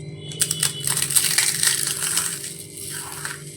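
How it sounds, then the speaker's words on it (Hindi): Crispy homemade rice flour papad snapped apart by hand, giving a burst of sharp, dry crackling snaps close up that settles into fainter crumbling crunches, with no talking. "एक पापड़ मैं आपको तोड़ कर दिखा देती हूँ कितना क्रिस्पी ये पापड़ हमारा बना हुआ है"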